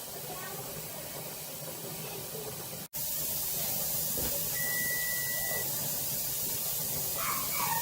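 Steam vents steadily from a pressure canner being used to can mushrooms, a continuous broad hiss that runs throughout, broken by one brief dropout near the start, with a faint tonal whistle partway through.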